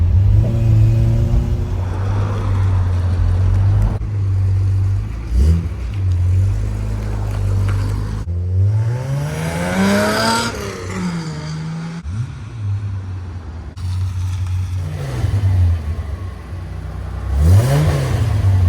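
A 1972 Datsun 240Z engine revs hard and pulls away on a road by a race track, a loud close roar rising and falling through several throttle bursts.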